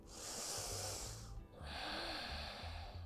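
A deep, breathy inhale during seated office yoga, drawn in two long airy surges with a brief pause between, close and alone with no talk.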